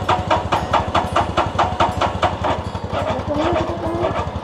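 A vehicle engine idling just after starting at the outset of a road trip, with a steady, rapid low chugging pulse up close and a brief voice near the end.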